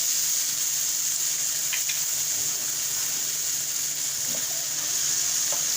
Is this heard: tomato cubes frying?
yes